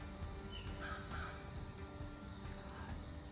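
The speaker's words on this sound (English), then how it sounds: "there's a crow crowing" Crow cawing outside near a porch, a few harsh caws at middling distance over a steady, faint outdoor background with no talk.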